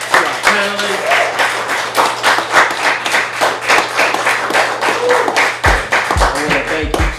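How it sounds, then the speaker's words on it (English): Live audience clapping for a panel at a podcast recording, loud crisp claps in a fairly small room with a few people chattering underneath, thinning toward the end as low murmurs and a voice come in. "let's give a round of applause to our panelists."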